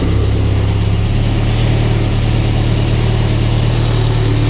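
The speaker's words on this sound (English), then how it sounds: "Okay, so now that the engine's running" A Classic Mini engine with a newly fitted oil cooler runs at a steady idle, a loud, close, even drone that carries on without a break.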